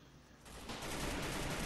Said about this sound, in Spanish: Qué buen disparo.